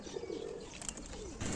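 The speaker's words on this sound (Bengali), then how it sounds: "কবুতরগুলো ছেড়ে দিলাম, তারা একটু উড়াউড়ি করুক।" Pigeons being released to fly, giving soft low cooing with a few brief chirps and a light flutter of wings toward the end, fairly faint and close.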